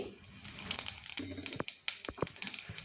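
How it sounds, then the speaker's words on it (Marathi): Mustard and cumin seeds crackle in a spoonful of hot oil in a pan, with quick irregular pops and spits over a soft background hiss, close and moderately loud. "मोहरी छान तडतडली"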